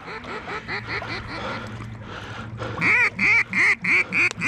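Waterfowl calling overhead at dusk during a hunt, a rapid series of loud, clipped honk-like calls, near and repeated in bursts, growing louder toward the end.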